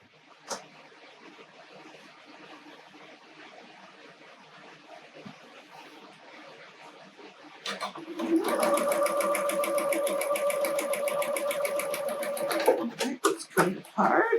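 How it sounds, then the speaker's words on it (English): Partway in, a sewing machine starts stitching along the top edge of a Lori Holt snowman quilt block, a close, steady whirring that runs several seconds after a stretch of quiet handling, then stops with a few clunks. "I'm going to sew along this top edge"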